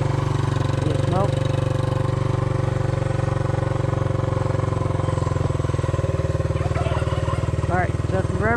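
A Honda SL100 motorcycle engine runs with a rough, misfiring and smoking condition, holding a steady, loud, close-up chugging idle throughout with little rise in pitch.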